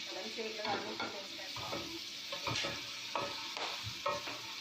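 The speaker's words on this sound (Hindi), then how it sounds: "चिकन को हम 1 से 2 मिनट के लिए फ्राई कर लेंगे।" Chicken frying in a little oil in a kadhai wok: a soft, close sizzle broken by rhythmic scraping stirs about every half second, with no voices.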